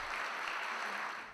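Audience applause after a choir's New Year celebration performance at a Hanyang University New Year gathering, a brief dense wash of clapping from a crowd that holds steady and then begins to fade.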